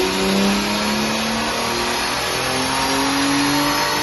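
Lexus SC300 with an Apexi Super AFC piggyback tune accelerating hard during a pull, the engine note loud, close and steadily rising in pitch throughout, with no voices.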